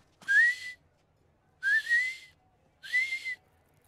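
Three short rising whistles, each about half a second long, sound alone and fairly close, separated by pauses of roughly one second.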